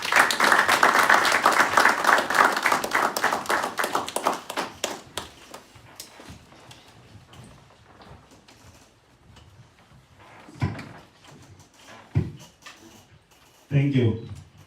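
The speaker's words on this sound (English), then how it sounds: "So may we put our hands together for Mr. Jeff Mazingo." Small-audience applause at a Zimbabwe Football Association diaspora event, a loose patter of hands that is fairly loud at first and then thins into sparse, scattered claps with a few louder bumps near the end.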